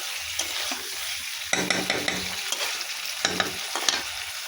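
Hilsa fish pieces are stir-fried in hot oil in a pan, with bursts of spatula scraping and stirring over a steady sizzle that swells and eases in short waves, close and fairly loud.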